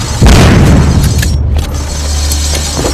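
A bomb blast in the Walking Zombie video game lands as a sudden, very loud, deep boom right at the start, followed by a rumbling decay and a few faint game effects afterward.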